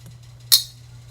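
A single sharp metallic clink of a teaspoon against a jar while measuring salt for pressure-canned yellow squash, brief and close over a low steady hum, with no talking.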